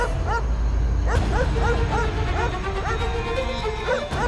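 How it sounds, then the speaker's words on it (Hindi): A dog barks at a house door at night in a rhythmic run of yelps and barks with a few whimpering notes, fairly close and loud over a steady low background hum. "द्वार में कुत्ता काहे भौंक रहा है?"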